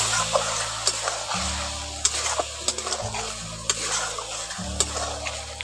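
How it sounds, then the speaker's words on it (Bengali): Spices and other ingredients are stirred and fried in a pan for a mushroom curry. A steady close sizzle runs under repeated scraping stirs, with a low hum in the background and no talking. "এই উপকরণগুলো দিয়ে একটু ভালো করে নাড়াচাড়া করে একটু কষে নিচ্ছি।"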